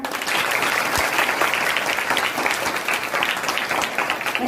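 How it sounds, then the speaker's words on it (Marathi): An audience at a Datta Jayanti kirtan bursts into loud, sustained clapping, a dense even wash of many hands beating together without a pause and no voices on top. "एकदा जोरदार टाळ्या तुमच्या विरकरवाडीसाठी."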